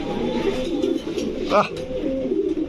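Lahori pigeons, a female and a male, give soft low cooing calls close by, with a short brighter burst partway through.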